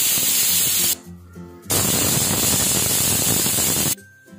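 Pressure cooker on a gas stove letting off loud hissing steam in two long bursts, cut by short quiet gaps, with a faint whistle tone running through the hiss, close and alone.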